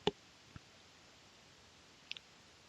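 Mouse clicks while selecting a tool in Adobe Illustrator: one sharp click, a faint tap, then a quick double click about two seconds later, close and crisp against quiet room tone, with no talking.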